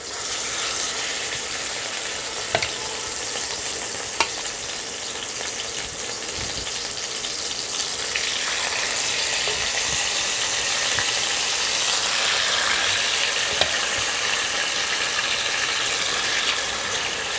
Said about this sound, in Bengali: ওই তেলের মধ্যে আমি দিয়ে দিচ্ছি ম্যারিনেট করা চিকেন